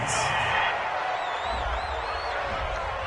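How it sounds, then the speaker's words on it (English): A home crowd cheers in a video game American football broadcast, a broad steady roar of stadium noise with a few whoops, heard underneath a commentator's voice. "This home crowd, they're happy with that call."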